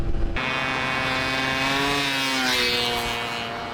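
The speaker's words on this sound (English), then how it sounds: "the constant drone of the engine is rattling through my head like a hammer" A cheap AliExpress race moped engine drones loud and close on a long ride from London to Edinburgh, a steady buzzing whine with rising and falling pitch as the revs shift.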